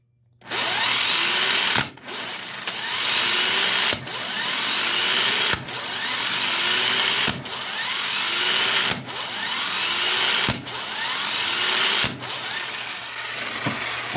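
A Harbor Freight impact gun tightens a bolt in a string of about seven steady whirring bursts, each punctuated by a sharp break, loud and close with no talking.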